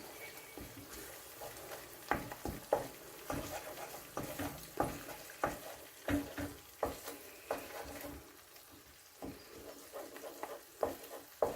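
Turkish menemen-style scrambled eggs in a frying pan, stirred with a utensil that taps and scrapes in an irregular rhythm over a soft, quiet sizzle.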